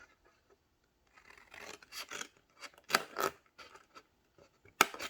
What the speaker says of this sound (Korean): 이렇게 자르고 자르고